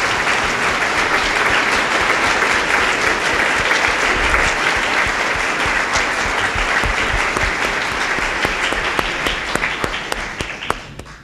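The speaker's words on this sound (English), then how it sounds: "I really would appreciate if you'd stand and give Ken a big round of applause" A standing lecture audience gives a long, sustained round of applause for a guest speaker, a thick, steady roar of many hands that thins into scattered individual claps as it fades near the end.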